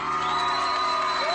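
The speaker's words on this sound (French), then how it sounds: "Les riverains ont même applaudi lorsqu'ils ont vu tomber les tours" A crowd of residents cheering and whooping as housing towers are brought down by explosives, a steady wash of distant voices with no single shout standing out.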